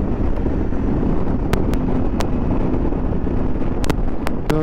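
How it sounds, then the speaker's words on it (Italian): Heavy wind buffeting the microphone while riding uphill on a road toward a small hill town in the Marche, a loud constant rushing roar with a few faint clicks and no talk. "Un po' di vento ci vuole"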